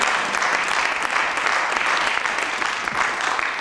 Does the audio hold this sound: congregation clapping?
yes